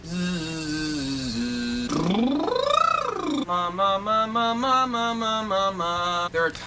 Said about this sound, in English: A good vocal warm-up routine will probably contain sounds like this.